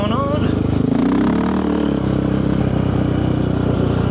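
A Raptor ATV engine idles and revs with popping, sputtering exhaust at Copper Creek, close and loud and steady throughout, with a voice talking over it.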